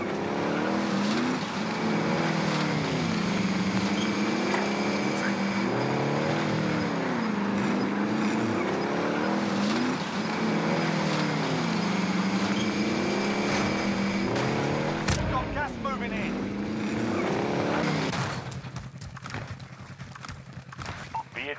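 A vehicle drives in Call of Duty Warzone, its engine droning steadily and close with repeated rising and falling revs over about twenty seconds before it cuts off and fades near the end.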